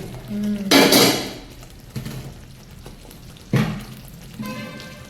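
A metal spoon scrapes and knocks against a cooking pot while cheese angoori gravy is stirred, giving two loud clattering bursts separated by quieter shuffling, heard up close.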